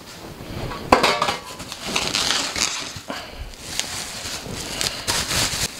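Protective plastic film is peeled off the lid and other parts of an iPlate FRAER-V8 induction deep fryer. Crinkly tearing and rustling comes up close, with a few light clinks of the parts being handled.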